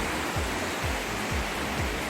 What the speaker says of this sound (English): That's a beautiful Barki waterfall.